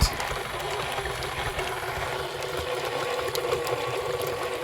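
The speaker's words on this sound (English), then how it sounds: "So I'm going to let that blend for a good minute or 2. While our mixer's going" A stand mixer runs slowly, blending lasagne filling. Its steady, dense motor whir and churning hold at an even level throughout, with nobody speaking.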